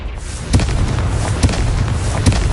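Confringo fire spell blasting in Hogwarts Legacy, a dense roaring rumble with several dull thumping impacts spaced about a second apart, loud and continuous throughout.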